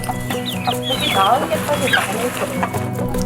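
Chickens cluck and squawk in a backyard chicken coop, several birds close by with busy overlapping calls over steady background noise.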